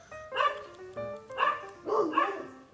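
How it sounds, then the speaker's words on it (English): Dogs at home bark several times in a row, loud and close, with yelping, whiny barks in an uneven rhythm. "Shut up, dogs."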